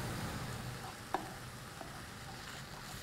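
Mushrooms, salt and homemade tom yum sauce cook with softened onions in a pan, giving a steady, quiet frying sizzle with one brief click partway through.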